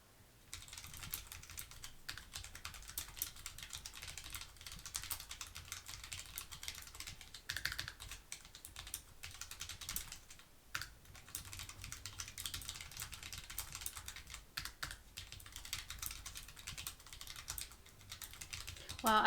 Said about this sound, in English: So let me start typing test.